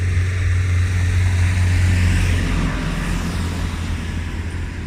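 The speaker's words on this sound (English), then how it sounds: "there's a big tractor that's gonna make noise." A big tractor rumbles past on a rural road near Verona, its loud low engine drone steady at first and then easing slightly as it moves away, with no talk over it.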